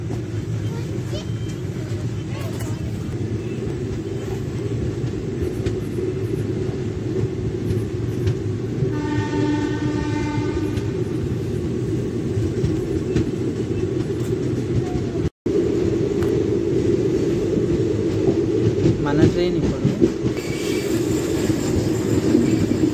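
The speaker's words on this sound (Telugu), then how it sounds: "మన ట్రైన్ ఇప్పుడు మహబూబ్ నగర్కి చేరుకుంటుంది" Steady rumble and clatter of train No. 17603, Kacheguda to Yelahanka, rolling into Mahbubnagar station, with a brief horn-like tone midway and voices talking over the rail noise.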